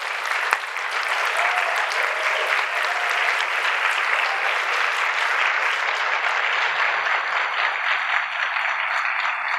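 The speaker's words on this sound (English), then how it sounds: "can you all stand up and get a round of applause for helping us?" Sustained applause from a community audience at an autism acceptance month event, steady and dense throughout with no voices standing out.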